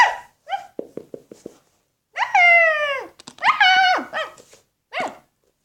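A pet dog whimpers in short, rising whines, then lets out two long drawn howls and a brief final whine, all close and clear with no talk.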